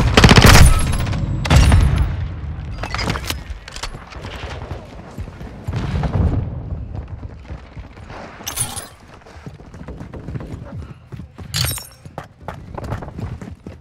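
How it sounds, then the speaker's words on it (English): Stun grenade in Modern Warfare II Kill Confirmed on the Embassy map: loud sharp bursts and shattering cracks at irregular intervals amid gunfire and clattering combat noise, close and harsh. "Throwing a stun grenade!"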